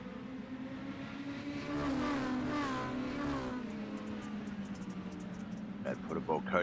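Dirt mini stock race cars in the iRacing game, engines droning and rising in pitch as they rev, swelling louder in the middle then easing off, with a commentator talking over the racing.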